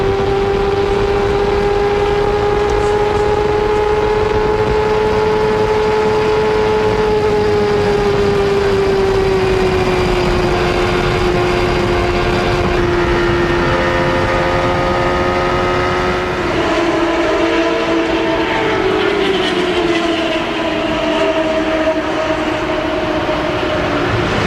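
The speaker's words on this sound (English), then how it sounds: "You can hear the engine running." IndyCar engines howl at high revs during the 1993 Michigan 500, a loud sustained whine that shifts pitch as cars pass, heard alone without commentary.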